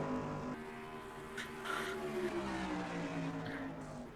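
Race car engines whine in the NASCAR Racing 2003 video game at Darlington as two cars run side by side for the lead, a continuous faint drone with pitch sweeping as they pass, no talking.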